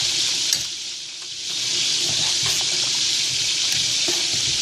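Macaroni pasta being stirred into a pot of water, a steady rushing bubbling wash with faint scraping and clinks of the spoon, close and fairly loud, with a brief dip near the start.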